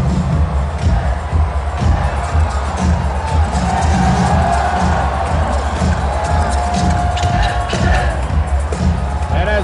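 Crowd at a 1988 CIAU men's national championship basketball game between the Brandon Bobcats and Acadia cheering and roaring in an arena, loud and sustained, with general crowd hubbub and scattered voices underneath.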